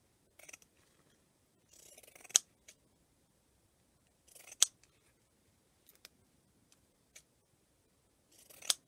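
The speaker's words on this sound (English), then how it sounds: "I'm going to just trim off down the side with my pinking shears" Pinking shears trim cotton fabric in a few separate bursts of crisp cutting snips, each ending in a sharp click, close and quiet with silent gaps between cuts.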